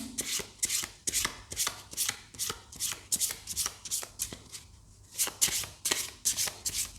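Tarot cards being shuffled produce a rapid series of crisp riffling bursts at a fairly even pace, close and clear with a brief pause partway through.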